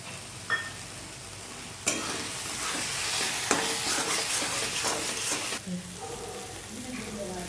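Paneer frying in a pan while being stirred, with a steady sizzle and several scraping strokes of the spoon against the pan, heard up close.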